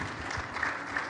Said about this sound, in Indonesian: tepuk tangan juga dong